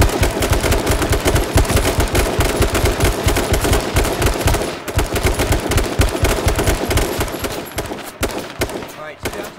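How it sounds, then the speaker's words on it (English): Squad gunfire in the game H1Z1, with rapid, loud, continuous automatic bursts from several weapons firing together, layered dense and close throughout, tapering slightly at the end. "Let's fire together."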